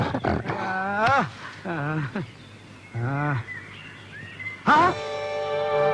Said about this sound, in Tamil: ஐயோ கரடி